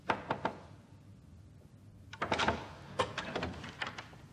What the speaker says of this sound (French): Puis revient frapper à la porte pour demander une chose toute simple